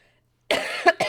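A sick person gives a short, sharp cough that breaks into two or three quick bursts, close up and alone after a brief silence.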